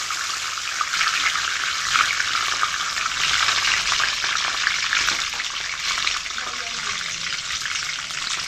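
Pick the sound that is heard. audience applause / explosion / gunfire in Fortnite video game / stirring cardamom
stirring cardamom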